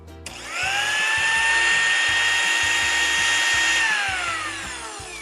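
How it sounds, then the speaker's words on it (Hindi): A kitchen blender motor spins up and runs steadily at a loud, even whine for about four seconds, then winds down slightly, heard alone without talk. "ये ब्लेंडर की आवाज थी।"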